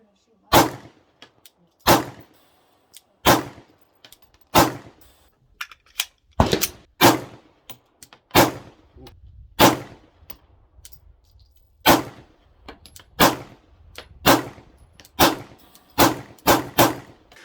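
A .22 handgun fires at a shooting range: about fifteen sharp, loud cracks come in a steady, unhurried rhythm, each ringing briefly. Faint talk can be heard between some shots.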